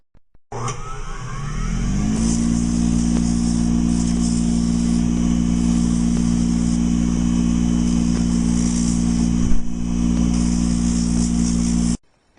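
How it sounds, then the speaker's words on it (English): Grinder spinning up and running steadily while smoothing the edges of a custom orthotic, a loud continuous whine and roar that holds for about eleven seconds before cutting off. "What I would do next is take it to the grinder. We're going to clean up these edges"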